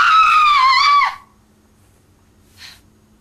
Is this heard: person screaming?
yes